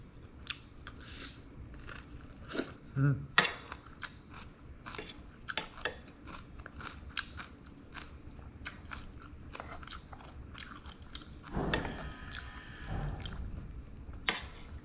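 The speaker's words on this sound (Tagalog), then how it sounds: "Malutong-lutong pa yung gulay. Sarap." Crunchy vegetables being bitten and chewed up close, with repeated crisp crunches and bites spread irregularly through the quiet, and no talk.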